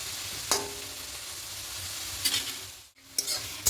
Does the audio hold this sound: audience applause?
no